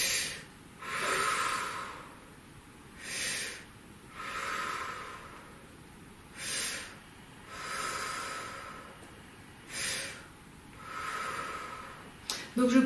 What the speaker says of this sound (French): Et on va prendre 4 grandes respirations en gonflant le ventre un petit peu.